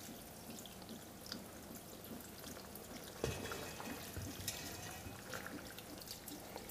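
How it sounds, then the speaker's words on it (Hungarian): Plain water poured from a tap or jug into a pot of Hungarian stuffed cabbage, a steady soft splashing wash that runs throughout with a brief sharper clink partway, close and fairly quiet. "Én ezt most simán vízzel fogom felönteni."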